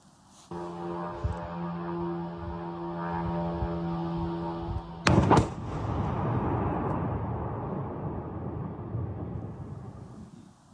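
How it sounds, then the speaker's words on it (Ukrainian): An explosion booms during a night drone attack on Russian airfields, a sharp crack cutting through a steady droning hum and followed by a long rumbling roar that slowly fades, heard from a distance. "Також спалахи вибухів і їхні наслідки заграви пожеж та дим"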